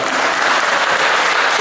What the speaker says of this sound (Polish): Brawa dla pani Sandry, brawa